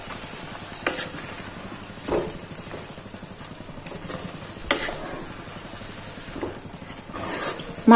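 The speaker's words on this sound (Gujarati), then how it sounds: "માવો છે એ પ્રોપર રીતે આપણે હલવામાં મિક્સ કરી દઈશું." A spoon stirring khoya (mawa) into sugar-free carrot halwa in a pan, with a few soft scraping strokes and occasional knocks over a steady low hiss, close and quiet.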